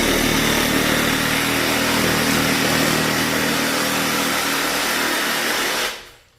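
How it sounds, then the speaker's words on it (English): A reciprocating saw (Sawzall) cuts down the middle of a whitetail deer's sternum during home butchering, giving a loud, steady motor buzz with raspy cutting noise that runs unbroken for about six seconds, then stops abruptly with no talking. "I'm gonna take my Sawzall, I'm gonna go right down the sternum, right down the middle"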